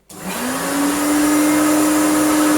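A Hoover Turbopower Junior U1426 upright vacuum cleaner switches on close by, its motor whine rising over the first second, then settling into a loud, steady drone with no one speaking.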